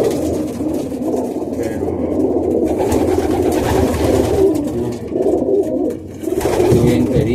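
Racing pigeons at a loft coo steadily in a dense, close chorus, with soft wing rustles and movement mixed in throughout.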